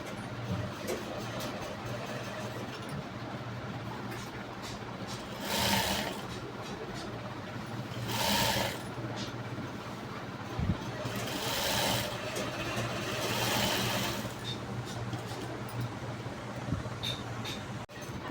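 A sewing machine stitches the outer back panel of a blouse with lining fabric, running in several steady bursts with short pauses, close and fairly loud over a constant low hum.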